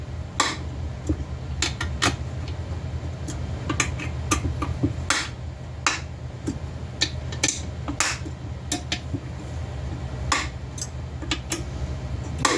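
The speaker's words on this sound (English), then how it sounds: "What you're hearing is the bearing inching its way down on the crank." Irregular sharp metallic ticks and clicks over a steady low mechanical hum, close up, as a bearing is slowly pressed onto a crankshaft in an engine case.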